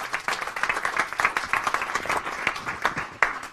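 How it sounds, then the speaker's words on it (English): A small audience at a live Cashflow 101 game event gives a round of applause, brisk uneven clapping from a modest group with individual claps standing out nearby. "Give him a round of applause"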